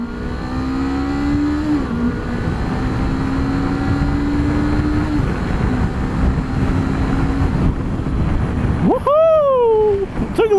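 A 2019 Honda CBR 500R motorcycle accelerating hard from 40 to 80, its engine whine climbing steadily through two upshifts under heavy wind rush, ending in a sharp rising note.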